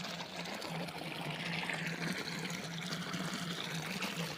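Irrigation water runs along a channel into guava and banana plantings on a farm, a soft, steady trickling gurgle heard fairly close and low in level, alone without talk.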